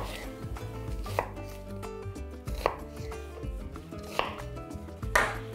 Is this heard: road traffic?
no